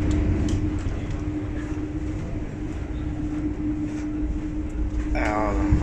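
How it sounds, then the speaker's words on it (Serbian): Steady low rumble and hum inside a moving passenger train, with a constant drone and faint rattles throughout, and a brief voice near the end. "pa ću malo da vam snimim kako izgleda ovaj voz iznutra"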